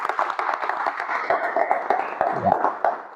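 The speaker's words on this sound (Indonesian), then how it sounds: "Ya, tepuk tangan." A class at an Indonesian vocational high school claps together. Many hands patter in a dense, fairly loud burst that lasts a few seconds, recorded close in a room with no talk over it.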